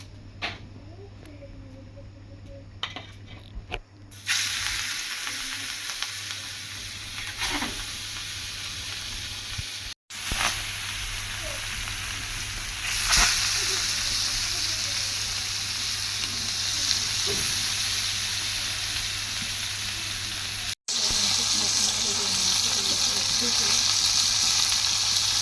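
Fish sizzles steadily as it fries in a pan of hot oil for a curry, a continuous near hiss that grows louder after the first few seconds and runs unbroken to the end.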